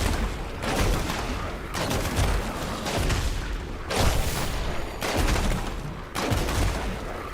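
Demon Hunter rockets fire in Diablo 3 in dense, loud bursts of explosive crackling, roughly six barrages at a steady rhythm.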